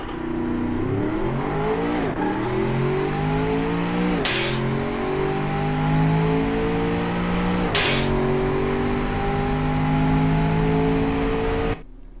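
A 2017 AMW Eagle with a 400-horsepower V8 and all-wheel drive accelerates hard in the game Automation, its engine note climbing loudly through four gears, each upshift marked by a brief drop before the pitch rises again, then easing off at the end.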